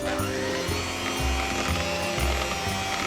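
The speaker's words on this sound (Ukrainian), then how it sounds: "Збиваємо масло зі згущеним молоком." An electric mixer whirs steadily while beating butter with condensed milk for a cream, its motor tone dipping and rising in a rhythmic pulse as the beaters work through the thick mixture.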